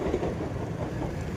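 A train passes close by near a railway junction, its wheels and cars making a loud, continuous rumbling clatter from start to end with no voices.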